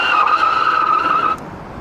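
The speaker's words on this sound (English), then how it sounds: "enjoy the tire screeching" Tires screech on a Ghostcat F4X e-bike fitted with CST tires, a loud sustained squeal that holds steady for over a second, then drops off abruptly into quieter residual noise.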